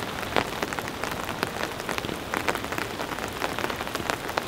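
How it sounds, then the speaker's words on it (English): Steady rain drums on the surface of a tent during a storm-camping trip, a dense continuous patter of drops close by with no voices. "The thunderstorms have moved on, but it's continued to rain."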